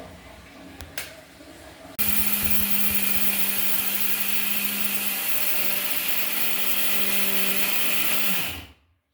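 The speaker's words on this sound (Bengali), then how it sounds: "আমি তো এটার ভিতরে আমি চাউলটা ব্লেন্ড করি" Electric blender grinding soaked rice, running loud and steady for several seconds after a short start, then spinning down and stopping, close by in a home kitchen.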